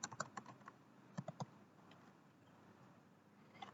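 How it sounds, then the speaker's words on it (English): Quiet keystrokes on a computer keyboard while entering a name into a spreadsheet cell, a few quick clusters of taps separated by short pauses, close but soft. "Typing our name in cell A2."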